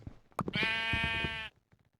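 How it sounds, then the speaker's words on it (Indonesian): A Minecraft sheep bleats once in a loud, sustained wavering cry inside the video game, preceded by a few soft clicks and followed by faint tapping sounds. "Lalu domba muncul tetapi malah jatuh ke dalam void."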